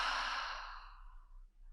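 One soft exhale through the mouth during a yoga flow class, a single close breath that fades out over about a second.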